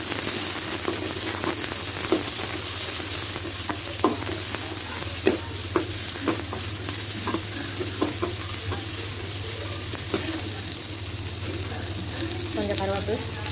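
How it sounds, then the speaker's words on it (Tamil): Chillies and onions sizzle and fry in a pan as a chilli idly dish is made, a steady close hiss with repeated stirring scrapes and clicks throughout, with no speech. "மிளகாய் சேர்த்துக்கலாம் ரெண்டு ஆனியன் சேர்த்துக்கிறேன்"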